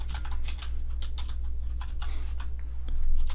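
Rapid, uneven typing on a computer keyboard, close and steady clicking of keys with no voices.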